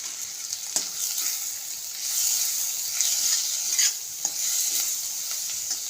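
Cumin, coriander, chili and salt sautéing in butter in a pan, a bright continuous sizzle with repeated stirring scrapes and occasional sharp utensil taps.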